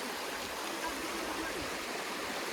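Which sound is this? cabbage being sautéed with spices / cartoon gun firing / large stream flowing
large stream flowing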